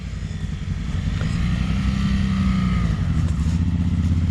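A Honda Transalp 600 motorcycle engine revs off-road in a steady, loud, low rumble that swells slightly partway through and holds without any talk.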